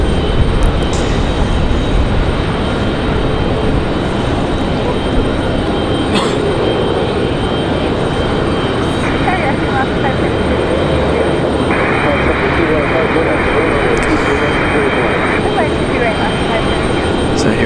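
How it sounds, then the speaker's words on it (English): An Alaska Airlines Boeing 737-990 inbound from Seattle on final approach to Raleigh-Durham gives a loud sustained jet roar throughout, with a voice talking over the engine noise. "our next arrival is going to be Alaska Airlines, Alaska 572, coming in from Seattle, 4 hours and 37 minutes of flight time for this 737-990"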